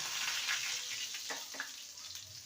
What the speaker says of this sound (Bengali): রসুনটাকে হালকা ভেজে নেব যাতে করে রসুনের কাঁচা গন্ধটা চলে যায়